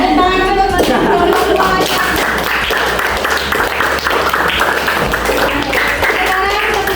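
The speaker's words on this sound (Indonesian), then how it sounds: "Tepuk tangan." Students in an Islamic junior high school classroom break into loud, dense clapping after a quiz game, sustained close-up applause with children's voices and a teacher talking over it throughout.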